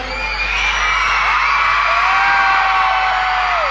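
A large crowd at a concert cheers and shouts continuously, loud and sustained whoops and yells blending into a roaring wall of sound.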